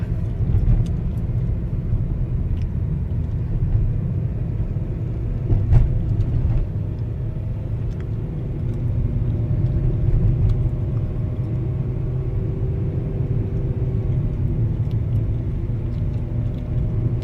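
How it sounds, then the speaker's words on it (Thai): A 2015 Suzuki Swift GLX with an automatic gearbox and four people aboard climbs a steep mountain road, its engine a steady, loud low rumble with road and cabin noise. "เกียร์ออโต้ก็ไว้ใจได้ จัดส่งกำลังได้ดีนะครับ ดูดูรอบนะฮะ รอบขึ้นช่วย ให้แรงบิด"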